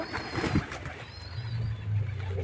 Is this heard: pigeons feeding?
yes